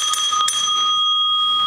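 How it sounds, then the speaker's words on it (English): A handheld bell rings in a quiet residential street scene, several bright metallic strikes early on followed by a long, steady sustained ring that hangs alone at moderate loudness. "the bell of an ice cream man."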